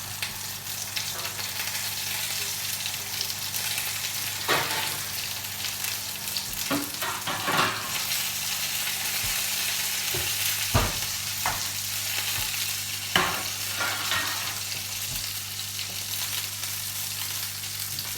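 Fish fries in a pan of hot oil, a continuous low sizzle close by with a few sharper pops and clinks scattered through, no talking.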